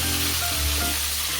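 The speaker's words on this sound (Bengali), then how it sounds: "তো এক পাশে ভাজা হলো আর এক পাশে দিয়ে দিলাম।" Rohu fish head pieces fry in hot oil, giving a loud, continuous close sizzle with a low bubbling hiss throughout.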